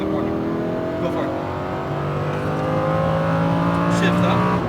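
A Lamborghini Huracan on a racetrack, its engine droning steadily and rising in pitch as it accelerates, heard from close by with a voice talking over it throughout.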